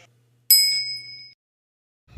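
A single clear bell ding, a bright metallic ping ringing out and decaying over about a second against silence, used as a notification sound effect.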